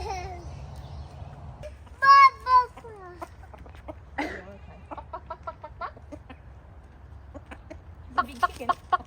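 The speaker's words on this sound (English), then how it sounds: "Big chicken." Chickens on a farm cluck and squawk nearby, a few loud drawn-out calls followed by a run of short rhythmic clucks, with low background noise throughout.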